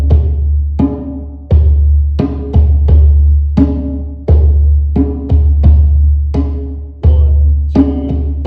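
A hand drum plays a steady groove, with deep bass hits on beat one and brighter open tones on the backbeat of two and four. The strokes are close, loud and evenly spaced, with no voices.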